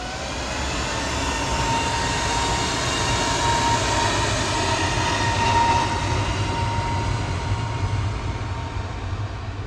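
A Jet2 Airbus A321neo departs Manchester Airport, its engines a broad, steady roar that swells slightly and then eases, heard from a distance with no voices over it.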